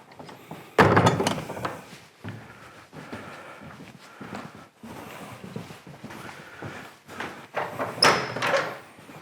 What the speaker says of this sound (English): I'll close the door, keep it warm.